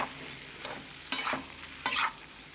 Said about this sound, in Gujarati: હવે આપણે બધું સરસ મિક્સ કરી લેશું